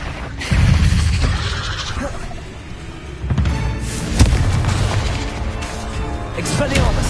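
Spell blasts from the Confringo fire curse in Hogwarts Legacy on PS5, several booming bursts and thuds in a busy combat mix with game voices over it.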